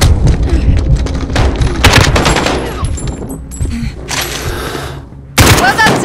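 Rapid bursts of gunfire and booming shots from a Call of Duty: Modern Warfare ambush on returning guards, loud and dense throughout, with a brief lull before a sharp final burst.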